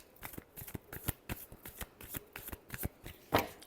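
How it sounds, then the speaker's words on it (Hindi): Tarot cards are shuffled by hand close up in a quick, irregular series of crisp riffling flicks and soft slaps, ending with a sharper snap. "last shuffle"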